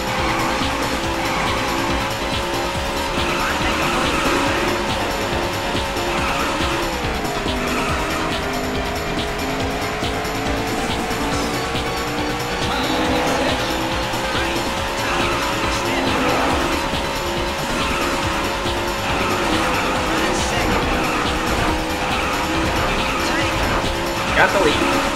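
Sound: racing cars and tire squeal in video game Daytona USA

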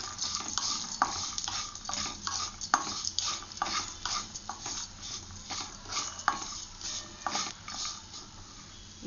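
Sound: roasting coriander seeds and dry coconut pieces in a pan

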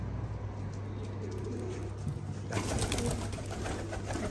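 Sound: pigeons cooing

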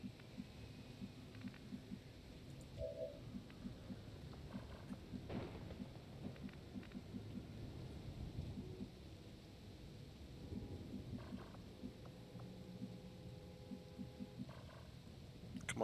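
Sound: rain and thunder in the video game XCOM 2

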